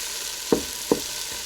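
Spinach wilting in a hot Ninja pan with a little leftover egg residue gives a steady, close sizzle, broken by two short stirring knocks about half a second apart.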